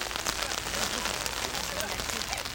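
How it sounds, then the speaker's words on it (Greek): Rain falls steadily at a beach during an outdoor New Year's pie-cutting gathering, a dense continuous patter with voices of people chatting beneath it. "Βγες τώρα στη βροχή."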